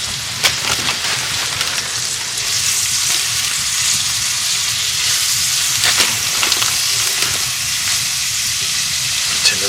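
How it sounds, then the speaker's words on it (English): Deer meat and onions fry in a pan on a red-hot wood stove, a loud, dense, continuous sizzle close by with occasional stirring scrapes and light clicks. "Might want to stir those onions here."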